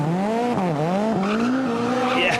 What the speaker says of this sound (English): Big squeal of the tyre.